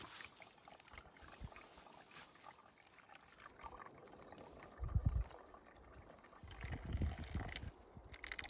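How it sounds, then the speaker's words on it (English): Water is squeezed through a Sawyer filter into a bottle outdoors, a soft trickling and dribbling stream with occasional louder splashes and handling bumps, close by and without speech. "squeeze it through my Sawyer filter into a bottle."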